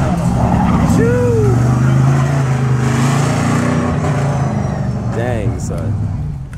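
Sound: race truck sliding sideways at hill climb

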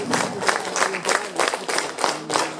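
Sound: audience applause at a literary event

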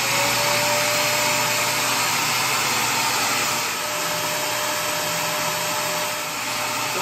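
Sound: vacuum cleaner running on battery power

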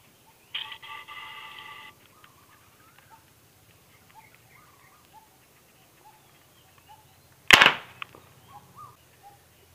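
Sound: PVC alcohol gun firing

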